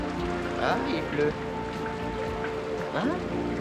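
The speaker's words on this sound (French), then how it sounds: "Ah, il pleut." Rain falls steadily on a surface in an animated episode, a constant patter running throughout with music and a voice over it.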